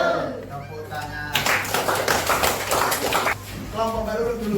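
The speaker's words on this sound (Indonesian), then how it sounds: "tepuk tangan" Hand clapping from a group at a school teachers' presentation, starting with talk and then breaking into a burst of clapping that continues under voices.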